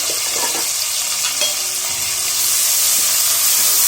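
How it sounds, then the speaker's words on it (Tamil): Crushed ginger and garlic sauté in hot oil in a pan, a loud steady sizzle and hiss with occasional stirring scrapes close by. "இஞ்சி பூண்டு பச்சை வாசனை போற வரைக்கும் வதக்கிக்கலாம்"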